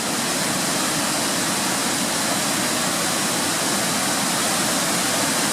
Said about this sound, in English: There's so many waterfalls and cascades that make up this place.